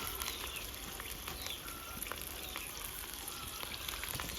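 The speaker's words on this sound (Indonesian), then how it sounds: "sudah proses menggoreng tahu sama ini" Tofu frying in a pan over a home kitchen stove, giving a steady, dense crackling sizzle with scattered pops throughout, fairly close and uninterrupted by talk.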